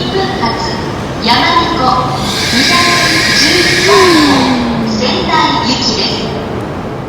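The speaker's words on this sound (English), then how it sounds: "I'm about to go on the Shinkansen." Loud, steady rumble of a high-speed train with rising and falling electric whining tones throughout.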